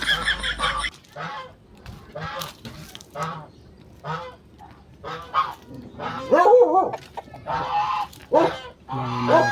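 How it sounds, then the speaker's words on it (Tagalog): Geese honking repeatedly in a farmyard with ducks, chickens and a dog, the calls rising louder and busier toward the end, with bursts of voices and brief sounds in between. "May mga pato, may gansa."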